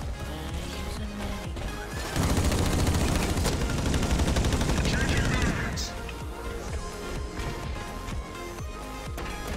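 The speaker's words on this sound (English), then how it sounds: "Okay, minigun time. Gonna get a minigun, gonna use a minigun," A minigun fires in the Blacklight: Retribution shooter game as a dense, loud sustained burst lasting several seconds, with scattered shots and clatter before and after.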